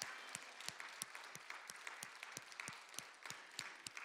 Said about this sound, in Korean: 그 하나님께 영광의 박수 올려드릴까요?